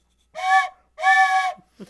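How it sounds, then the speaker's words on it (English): Two toots of a harmonious train whistle, each about half a second, close and clear, with a brief pause between them. "I got to toot the train whistle so many times"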